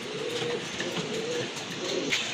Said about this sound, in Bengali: চাইনিজ আউল কবুতর চাইনিজ আউল শাটিন কবুতর